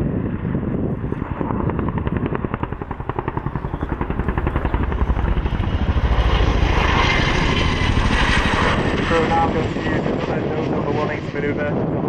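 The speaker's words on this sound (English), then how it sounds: "those 30-foot blades beating the air into submission should make a nice bit of noise" Steady, loud rhythmic thumping of 30-foot helicopter rotor blades chopping the air at the RIAT 2015 airshow, with a whining engine rising over the continuous drone.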